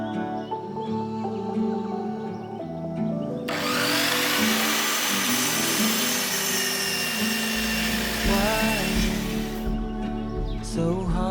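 A power tool whines loudly through timber being cut for garden beds, a sustained harsh buzz lasting several seconds before cutting off abruptly, with a lower motor hum around it.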